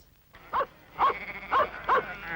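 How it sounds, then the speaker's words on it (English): Sheep bleat in an open field while a dog plays among them: four distinct, wavering bleats at fairly even intervals, moderately close, with quiet background between calls. "Our little Bingo's having a lovely time playing with those sheep."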